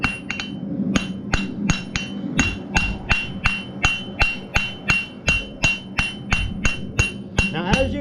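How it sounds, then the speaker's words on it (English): Hammer blows strike hot metal on an anvil as a heart-shaped hook is drawn out, a steady run of about twenty evenly spaced, ringing strikes, close and clear. "I'm hammering in the same spot and I'm pulling the material back to myself."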